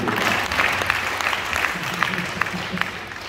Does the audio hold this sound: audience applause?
yes